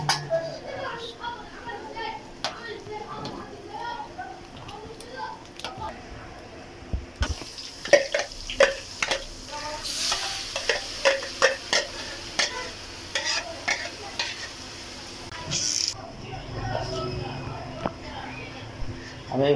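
Garlic and coriander frying in a pan for an Egyptian courgette dish, with crackling sizzle and brisk stirring scrapes that grow busier midway, someone talking over much of it.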